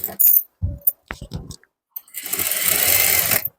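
A sewing machine stitches piping on fabric in short bursts at first, then one sustained rapid run of needle clatter near the end, close by and fairly loud.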